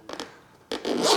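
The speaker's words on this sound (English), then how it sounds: "inside we find this textile box with a water bag zipper on it" A zipper on a textile watch box for a DOXA Sub 300T Searambler being unzipped close up, two short tugs and then a longer, stiffer pull of the zip.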